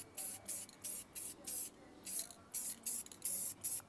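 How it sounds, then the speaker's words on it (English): Clear coat is sprayed from an aerosol can onto a painted wheel in about nine short, even hissing bursts with brief gaps between them, close and fairly loud. "I'm going to apply this clear coat on it and, make it look shiny."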